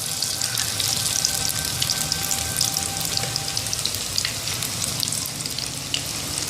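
Pakora batter sizzles and crackles in hot oil, a steady loud frying hiss with faint bubbling and clinks, no voices.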